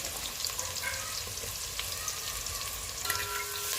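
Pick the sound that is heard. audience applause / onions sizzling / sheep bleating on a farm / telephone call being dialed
onions sizzling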